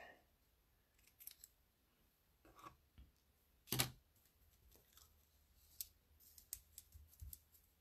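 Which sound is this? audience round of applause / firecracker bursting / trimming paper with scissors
trimming paper with scissors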